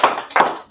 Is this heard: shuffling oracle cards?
no